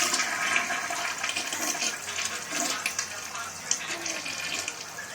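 A toilet with a Briggs bowl and an American Standard tank flushes in a steady, rushing, gurgling swirl of water, heard close up and alone.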